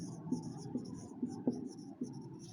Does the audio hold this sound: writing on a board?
yes